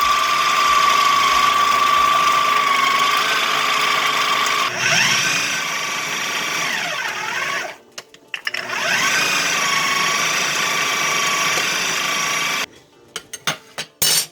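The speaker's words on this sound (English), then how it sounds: "Okay, so I've got the peppers in the food processor." A food processor blends peppers, onion and Thai chilies, its steady motor whine running loud and close, with pitch sweeps as the load shifts, two brief pauses and a stop near the end.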